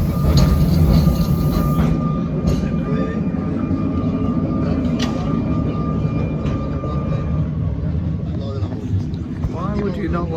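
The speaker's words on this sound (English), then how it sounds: "Oh, here's the tram." A tram arrives along a seaside street, a steady rolling rumble with a squealing tone that fades out, running loud and continuous under ongoing talk.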